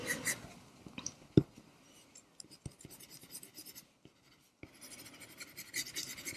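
A soft 4B graphite pencil scratches and rubs across a lino printing plate, quiet uneven strokes with short pauses between them and faint taps, and no voices.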